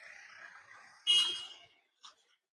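A car horn blasts once for about half a second, then gives a short second toot, standing out from quiet street noise in Ribeauvillé, France.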